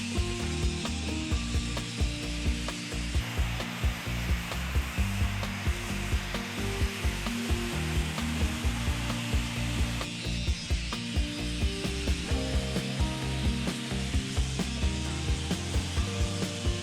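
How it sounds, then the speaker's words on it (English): Old paint being rubbed down layers deep on walls in an Italian property under restoration in Salento, a loud, continuous mechanical grinding with a rapid ratcheting rhythm that persists throughout. "Just rubbing down layers and layers of paint"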